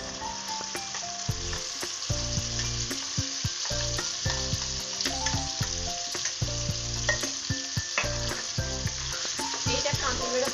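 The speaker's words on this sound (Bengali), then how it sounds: "এটা সমানে নাড়াচাড়া করে আমি ভাজতে থাকবো।" Brinjal pieces frying in moderately hot oil for a pickle, a steady close sizzle with occasional stirring, partly masked by prominent background music throughout.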